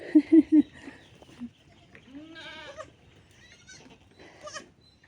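Goats and young goat kids bleat: three quick, close cries open the sequence, followed by scattered longer, wavering bleats, with a little faint background noise.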